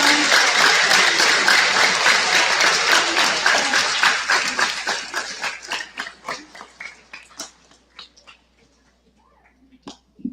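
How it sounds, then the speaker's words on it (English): Audience applause at a Jackter showcase of projects, a dense burst of clapping that starts loud and full, then thins into scattered individual claps before fading out, with a few late claps near the end. "Give them another round of applause."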